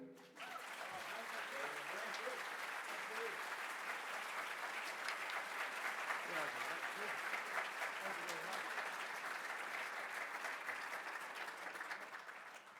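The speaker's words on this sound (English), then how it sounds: "Give another round of applause, please" An conference session audience gives sustained, dense applause for a group of dancers, a steady wash of many hands clapping that swells in at the start and holds evenly for over twelve seconds before easing slightly.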